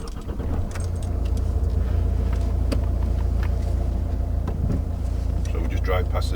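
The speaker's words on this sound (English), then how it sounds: "So we just drive past the junction now." Car interior while a learner driver passes a road junction during a driving lesson, with a steady engine and road rumble throughout, a few light clicks and rattles, and people talking over it.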